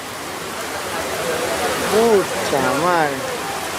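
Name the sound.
heavy rain falling during outdoor festival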